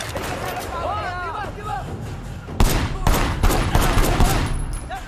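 Gunfire in the video game Sleeping Dogs during a wedding shootout: a dense, loud barrage of rapid shots and bursts that swells after a few seconds, with voices and crowd commotion underneath.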